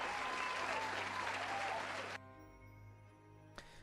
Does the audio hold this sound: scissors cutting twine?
no